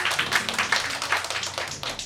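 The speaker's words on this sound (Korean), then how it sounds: "먼저 박수로 좀 맞이해 주시면 감사합니다." A small indoor audience claps to welcome a guest speaker at a lecture event, a brief close burst of hand claps with an uneven rhythm.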